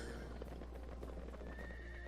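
A horse in the video game Sacred gives repeated clip-clop hoof steps and a whinnying neigh, close and clear over a low steady background hum.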